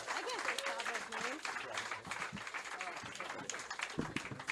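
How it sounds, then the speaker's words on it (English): An audience applauds comedians Stavros Halkias and Nick Mullen at a live comedy show, a fairly faint, busy patter of clapping mixed with scattered cheers and chatter throughout. "clap it up as loud as you can for Stavros Halkias and Nick Mullen"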